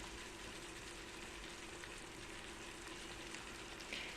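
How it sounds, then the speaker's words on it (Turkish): Tomatoes sautéing in a pan, giving a faint, continuous sizzle that holds steady for a few seconds with no talking. "domatesler hafif kavrulana kadar sotelemeye devam edeceğim"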